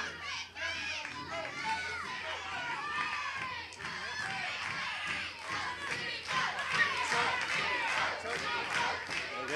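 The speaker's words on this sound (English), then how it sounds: "Again, the crowd now picking up the chance. Steamboat, Steamboat." Crowd at a 1982 Mid-Atlantic wrestling match between Ricky Steamboat and Joe LeDuc, chanting in rhythmic unison with loud, steady shouting and cheering throughout, a commentator talking over it.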